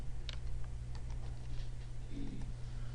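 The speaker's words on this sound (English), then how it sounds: "I'm going to type no shutdown" A few soft keystrokes on a computer keyboard typing a network command, faint and brief over a steady low electrical hum.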